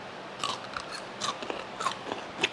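Crisp crunching bites into a pickled green bean coated in garlic and spices, several sharp close snaps spaced through a quiet room, followed by chewing.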